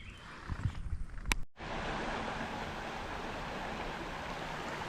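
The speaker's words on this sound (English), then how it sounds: "there's nothing more therapeutic than listening to a little stream" A small creek flows steadily past a train bridge, a continuous close rushing and rippling wash that starts after a brief clatter of handling noise at the beginning.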